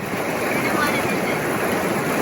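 Wading through Waipio River water during a river crossing on Hawaii's Big Island, a continuous broadband rush and splash of water close to the microphone for a couple of seconds, with wind noise.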